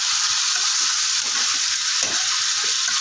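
Cauliflower fish curry masala, fish jhol with ground-spice water, sautéing in a pan: a steady broadband sizzle and hiss with soft stirring scrapes throughout, fairly close and continuous, no voices.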